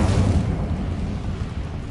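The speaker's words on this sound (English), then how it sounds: "Incendio." An Incendio fire spell cast in Hogwarts Legacy, a loud deep whooshing boom that bursts out at once and then trails into a rumbling fiery roar, with no voices heard.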